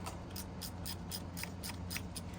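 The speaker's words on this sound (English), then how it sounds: "And then we're gonna use the original bolt to get it on. I'm just gonna loosely thread it in for now." Original bolt being loosely threaded into a heated grip bracket on a Honda Transalp, heard as a quiet series of small, regular metallic clicks and ratcheting ticks against a low steady hum, close by.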